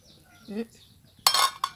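A metal utensil clinks against a pot of cooked mung beans being checked for doneness, several bright taps and scrapes close by, with a short stirring sound before them.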